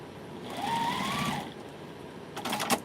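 A sewing machine stitches through fabric in a steady, close mechanical whir that runs for about a second before stopping, followed by a short clatter of handling noise.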